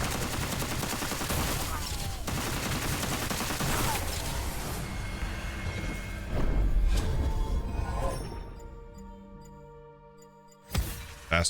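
Rapid, dense bursts of gunfire from the video game Witchfire rattle on continuously for several seconds, then die away into quieter game sounds and a few final loud shots.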